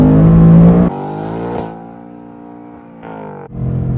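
A 2024 Ford Mustang Dark Horse engine roars loudly at high revs up to its 7,500 RPM redline, then drops and surges again in stages, close and unbroken.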